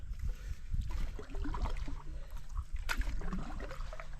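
A solo canoe is paddled through a boggy September lake, quiet low swishes and gurgles of water around the hull and paddle, close by and soft, with a brief clack near the middle.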